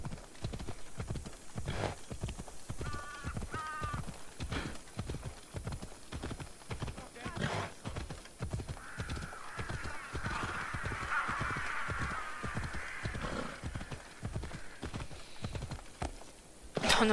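Horse hooves clip-clop in a steady, rhythmic trot in a video game, loud and continuous for the whole stretch. Crow-like caws and a brief whinny sit in the background.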